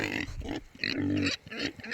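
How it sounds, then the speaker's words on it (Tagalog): Pet pigs grunt and snort up close in a quick series of short, throaty calls, loud and close with brief pauses between them. "Ah, alaga pala rin silang baboy. Parang ang bait ng baboy nila."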